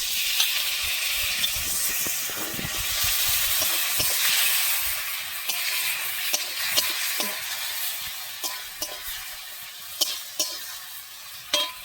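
Banana flower and prawn curry stir-fried in a pan, with a steady loud sizzle and hiss, scraping of the spatula, and sharp clanks of utensil against the pan, growing more frequent toward the end.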